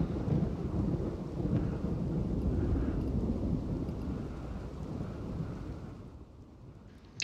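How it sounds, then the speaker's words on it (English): A thunderstorm in the RimWorld video game rumbles in a loud, continuous roar of thunder and heavy rain that fades slightly near the end, with no talk. "It's hard to even hear myself think whenever the thunderstorms are going on with the headphones."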